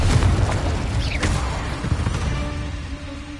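Spells Accio, Incendio and Confringo cast in the Hogwarts Legacy game: a loud fiery burst and booming blast at the start, then a rushing whoosh and crackling that fades out, with no voices.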